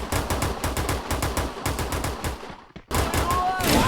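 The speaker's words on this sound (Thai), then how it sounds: "เสียงปืนบนหลังคาแน่นอน" Loud, rapid bursts of automatic gunfire in Free Fire, firing nearly nonstop, with a brief break before the shooting resumes.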